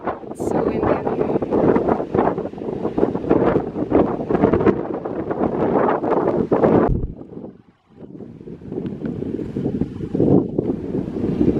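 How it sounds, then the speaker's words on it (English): Strong wind buffets the microphone on the Isle of Skye, a loud, continuous roaring rumble that gusts and swells throughout, dropping briefly to near silence before surging back. "It's so windy out here."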